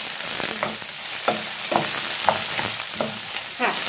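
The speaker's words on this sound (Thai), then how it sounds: "เราจะผัดอะไรที่มันสุกยากก่อนนะคะ" Cabbage being stir-fried in a pan makes a continuous close sizzle, broken by regular scraping strokes of a spatula roughly every half second.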